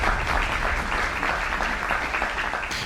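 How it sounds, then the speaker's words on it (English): A game show audience claps steadily in a sustained burst of applause, dense and even throughout, with no voices standing out. "Let's hear it for Lonnie Fritz, everyone."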